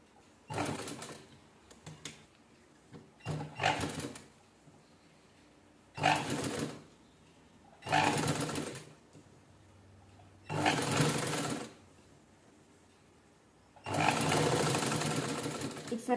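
Sewing machine stitching lace onto a velvet blouse sleeve, running in six separate bursts of a few seconds each with short quiet pauses between, fairly close and steady, with no voices.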